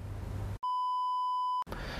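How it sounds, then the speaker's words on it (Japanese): A driver-seat drowsiness alert system sounds its warning as one steady, pure electronic beep lasting about a second, clear and isolated, with a quiet background hum before and after. "眠気を検出した場合、シートに設置されたボイスコイル型振動子から振動と警告音が流れます。"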